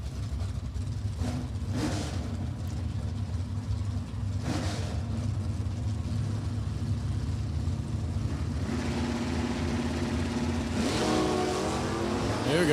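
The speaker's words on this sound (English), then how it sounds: "There we go, wheels up there for Daniels." An 83 Camaro and an 89 Pontiac K-Stock automatic launch side by side at a New England Dragway drag race, their engines roaring loud and continuous as they rev hard down the strip, with no talk.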